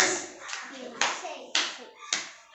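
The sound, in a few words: children clapping for game winner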